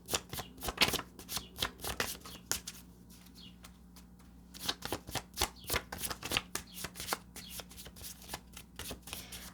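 Tarot cards are shuffled by hand close up in a quiet room: rapid bursts of crisp riffling and flapping, repeated in quick clusters with a brief calmer pause in the middle.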